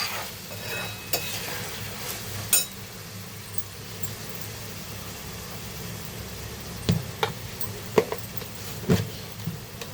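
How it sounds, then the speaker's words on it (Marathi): Prawn mince with black pepper powder stirred in a pan, a low continuous frying hiss under occasional sharp clinks and scrapes of the spoon against the metal. "काळी मिरी पावडर टाकली मस्त असं आपण याला मिक्स करून घेऊ"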